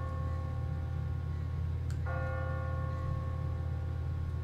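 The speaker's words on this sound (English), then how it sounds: "What kind of church bell goes off at 20 past the hour?" A church bell on an automatic timer in The Walking Dead video game rings out over a steady low ambient drone, with a single strike midway that leaves sustained ringing partials.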